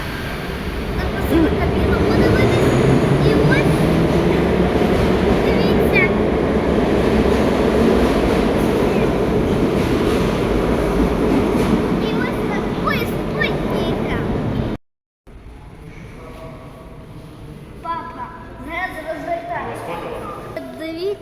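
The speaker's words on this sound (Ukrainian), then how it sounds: "Ось і наш поїзд зараз відправляється." Dnipro children's railway train pulling away, a loud steady rumble of wheels and carriage noise filling the first fifteen seconds, then a quieter ride with some talk in the background.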